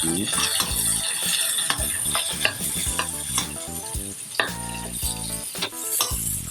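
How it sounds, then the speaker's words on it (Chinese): Green beans stir-fry in a wok with star anise, scallion and garlic, sizzling steadily while a spatula scrapes and clinks against the pan in a busy, close rhythm. "这个时候放呢，是因为这个豆角要煸比较长的时间"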